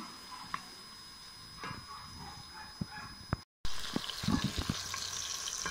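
Mung bean sauce being stirred in a pan, giving soft scraping and light sizzling taps at an irregular pace, close and fairly quiet, with a brief dropout midway and busier stirring afterward.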